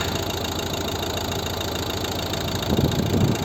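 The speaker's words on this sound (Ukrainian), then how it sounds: "Робота двигуна." The 1.6-litre diesel engine of a 2012 Volvo V50 idles close and loud, a rough steady rumble that swells slightly near the end, no talking.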